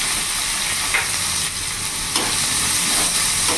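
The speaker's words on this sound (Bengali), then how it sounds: "পেঁয়াজটা ভাজা ভাজা করে নেব।" Chopped onion frying in a pan, a close continuous sizzle with scraping stirring strokes, no talking.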